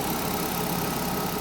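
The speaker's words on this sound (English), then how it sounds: "that awful noise you hear is the power steering on its way out" An idling Audi TT with a failing power steering system gives off a steady, close engine drone. A continuous whine from the steering pump runs unbroken underneath it, with no talk.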